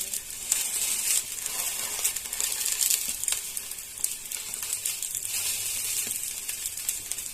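Mughlai paratha shallow-fries in a little oil, giving a steady bright sizzle with scattered crackles and pops, close and even, with no voices.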